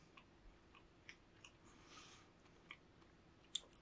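Someone chews a bite of a classic donut: soft, close crunching and small clicks spread out in a quiet room, with a faint crackle near the end.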